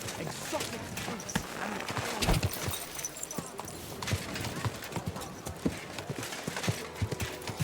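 Steady clip-clop of horse hooves trotting at a brisk, even rhythm in a city in the video game Kingdom Come: Deliverance II, close by, with voices talking over it.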